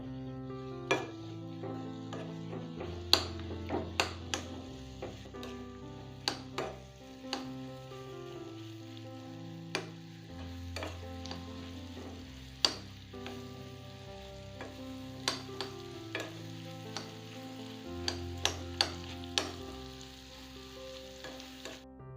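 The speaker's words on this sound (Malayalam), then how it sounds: "പഴം ഇതിലിട്ടിട്ട് നന്നായിട്ടൊന്ന് സോഫ്റ്റ് ആകുന്നവരെ ഇതൊന്ന് ഇളക്കിക്കൊണ്ടിരിക്കണം." Banana pieces being stirred in a frying pan until soft, a quiet continuous sizzle broken by frequent sharp clicks and taps of a spoon on the pan, close and steady with no voices.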